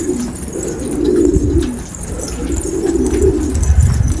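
A male pigeon coos in low, rolling phrases close by, the throaty calls swelling and fading twice against a quiet background.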